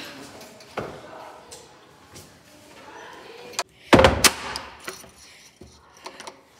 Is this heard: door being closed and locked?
yes